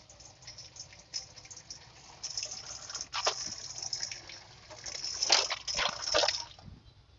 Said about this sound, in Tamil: ஸோ தண்ணி எடுத்து ஃபுல்லாக அதில் தெளிச்சுக்கோங்க